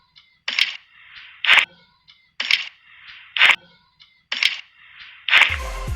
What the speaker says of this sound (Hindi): यहाँ पर आप ड्रॉप का साउंड भी सुन सकते हो।